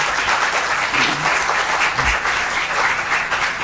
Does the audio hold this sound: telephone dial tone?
no